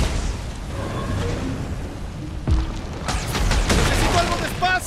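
Explosions in the video game Guardians of the Galaxy: a low rumble of action builds to a sharp blast midway, then a rapid cluster of louder bursts and crackles follows close and heavy.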